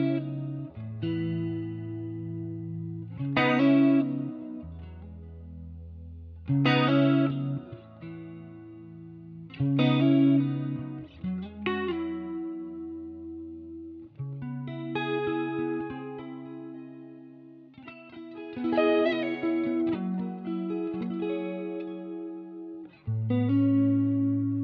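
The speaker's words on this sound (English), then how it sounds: "bring in a little bit of chorus" Clean electric guitar run through a versatile chorus pedal on a pedalboard, played as sustained chords and arpeggiated phrases with a shimmering, wavering tone, close and alone for about twenty-five seconds.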